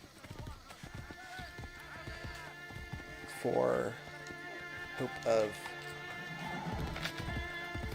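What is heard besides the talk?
summoned horse neighing and galloping in Assassin's Creed Brotherhood video game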